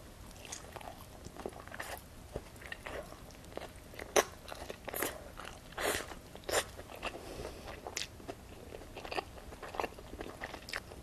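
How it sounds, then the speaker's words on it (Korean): Close, crisp bites and crunchy chewing of hot chicken shrimp pizza with whole garlic, coming in irregular bursts of sharp crackling with no talking. "얘는 핫치킨 쉬림프 한번 먹어볼게요."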